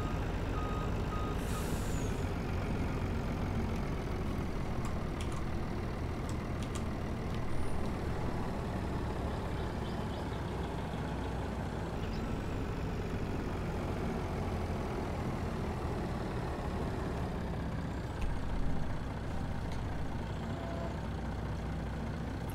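Tow truck wrecker in Farming Simulator 22 backs up with steady reversing beeps over a low engine drone, with a couple of faint air-brake hisses and no voices.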